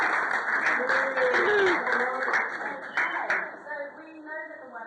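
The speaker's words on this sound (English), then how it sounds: "I believe Jigsaw deserves a nice big round of applause for that." A crowd at Carisbrooke Castle applauds for Jigsaw, with a dense burst of clapping mixed with cheering voices that thins and fades toward the end.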